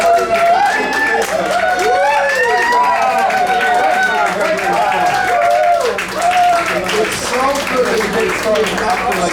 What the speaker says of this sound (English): One more round of applause for Los Más Valientes.